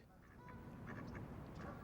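Urban geese at Lost Lagoon in Stanley Park honk faintly at a distance over a steady outdoor background, with a few brief calls rising above the hum.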